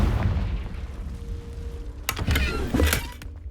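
A Confringo blasting spell goes off in Hogwarts Legacy, a muffled boom followed by crackling bursts and debris, heard over a low rumbling game background.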